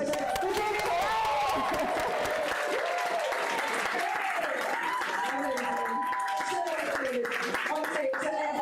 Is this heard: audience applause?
yes